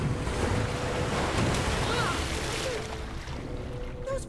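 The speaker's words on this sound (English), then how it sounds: "Those pressure plates release waterfalls upstairs." Rushing, roaring water from waterfalls set off by pressure plates in Minecraft Story Mode pours as a steady broadband wash throughout, easing slightly toward the end.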